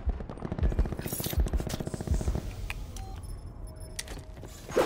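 Bursts of automatic gun firing in Black Ops 4, with rapid rattling shots in the first half that fade into quieter game noise and a few isolated clicks and tones afterward.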